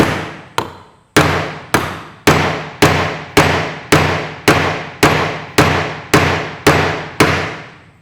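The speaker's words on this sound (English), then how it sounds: "I'll give this Welsh plug a bit of a smack on the, well, just on one of the gearbox cups will be fine" Sharp hammer blows drive a Welsh plug into the steering box of a Massey Ferguson 65 tractor, about a dozen loud, close, evenly spaced strikes, each with a brief ringing decay.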